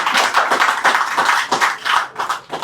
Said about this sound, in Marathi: एकदा त्याच्यासाठी टाळ्या होऊन जाऊन दे एकदा.